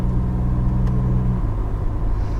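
A 2019 Ford Raptor with a 10-speed automatic accelerates hard, its engine a loud, steady drone heard from inside that drops abruptly in pitch partway through as the transmission upshifts.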